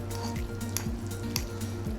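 Ramen noodles are mixed in a bowl up close, giving a wet, squishy stirring sound with a few sharp clinks of a utensil against the dish. An electrical hum runs steadily underneath.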